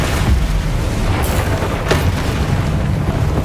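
A Bombarda blasting spell goes off in Hogwarts Legacy during a troll fight, a low rumbling boom over a dense bed of game noise with a sharp burst near the middle.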